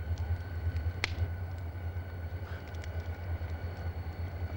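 A freight train rolls along in a steady low rumble with continuous mechanical drone and a sharp metallic clank near the one-second mark, heard close from aboard the moving cars.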